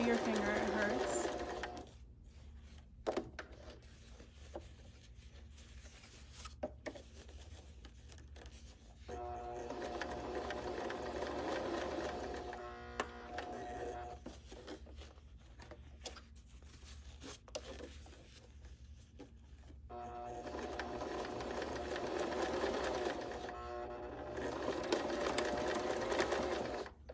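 A sewing machine stitches in several bursts of rapid, steady whirring, each lasting a few seconds, separated by pauses with faint handling clicks. The machine is close by and fairly quiet.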